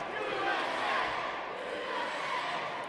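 A wrestling event crowd in Hazleton, Pennsylvania roars and chants in a dense, sustained wash of many voices filling the arena, steady and fairly distant with no single voice standing out.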